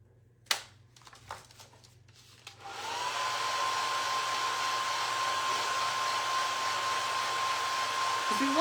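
A hair dryer blows steadily and loudly for about six seconds on paper mache pieces, with a sustained whine, after a few soft handling knocks and rustles.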